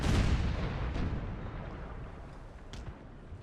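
Ship cannons firing in a naval battle from the video game Empire Total War, a dense rumbling barrage of booms with a couple of sharper reports, continuous and moderately loud with no talking.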